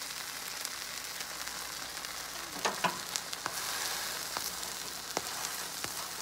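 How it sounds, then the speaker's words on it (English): Bread topped with cheese toasts face-down in a hot pan for a meatball sandwich, a continuous soft sizzle with scattered crackles and a few brief scrapes. "What I did is I turned this bread with the cheese over the pan."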